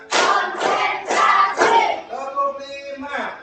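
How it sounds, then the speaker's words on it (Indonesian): A classroom of pupils claps in a counted rhythm, with four loud, evenly spaced bursts of clapping mixed with group chanting, followed by voices chanting together. "Bapak pimpin, tepuk 1, tepuk 2, tepuk 3, tepuk 4,"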